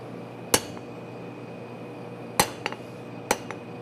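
Hammer blows ring on hot metal at an anvil during a forging session, three sharp metallic strikes spaced out, the second followed by two quick lighter taps, close and alone with no talk.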